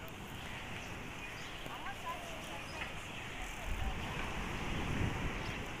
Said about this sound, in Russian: Вы слышите прибой моря?